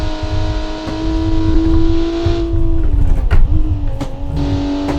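A budget performance car from the 2010s, driven on twisty roads in BeamNG.drive, holds a loud, steady engine drone that rises and dips slightly as the revs shift, with brief tire and suspension thumps.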